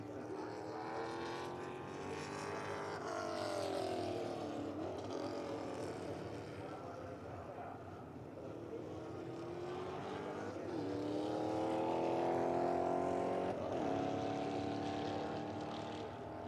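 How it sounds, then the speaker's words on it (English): The NASCAR safety car circles the track during a EuroNASCAR 2 round in Czechia, its engine a faint, continuous drone that rises and falls in pitch as it moves through the corners. "As the safety car makes its way around turn 16 now and through turn 17 as well."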